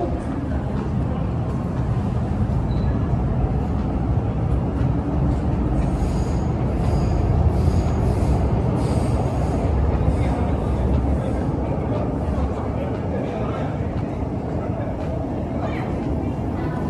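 Continuous rumble of a Hong Kong MTR metro train running along the track between Shau Kei Wan and Central, steady and fairly loud, with faint higher squeals from the rails.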